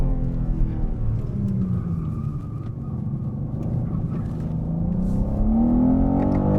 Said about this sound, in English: exiting a corner is a proper experience because you really have to manage the throttle on your exits